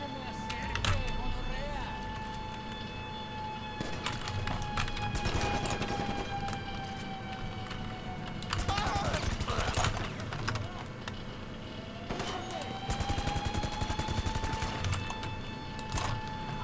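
Gunfire from a GTA 5 Online heist on Cayo Perico, several bursts of shots and rapid fusillades scattered across the stretch, mixed with engine drone and game sounds, with a player talking over it.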